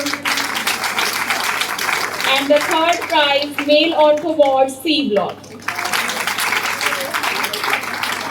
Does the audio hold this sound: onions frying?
no